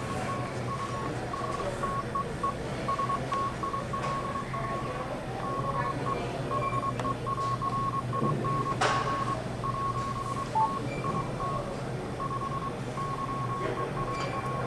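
Morse CW signal on 40 meters received through a Yaesu FTdx-101D transceiver: a steady pulsing tone of dots and dashes keyed repeatedly over a constant band of hiss and static, moderately loud throughout.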